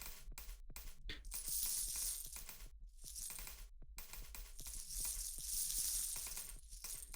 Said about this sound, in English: Throw in a bunch of big coins again to get some movement.